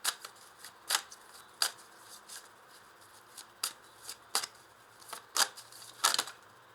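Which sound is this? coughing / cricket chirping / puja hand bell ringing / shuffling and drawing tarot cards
shuffling and drawing tarot cards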